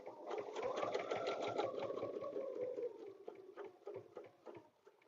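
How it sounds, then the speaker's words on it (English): A sewing machine stitches a quilted table runner in a steady, rapid whir of needle strokes that holds for a few seconds, then slows and thins into scattered stitches. It sounds close and fairly quiet, with no talking. "I'm going to stitch to B."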